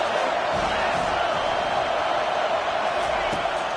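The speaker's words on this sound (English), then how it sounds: "They are pinned deep, and this crowd is letting them have it." A football stadium crowd jeers an offense pinned deep in its own territory, producing a dense, steady roar of voices that holds at an even level throughout.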